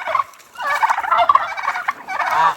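Turkeys on a farm gobble in a loud, continuous outdoor chorus, with overlapping rattling calls that swell and fade over a couple of seconds and no speech.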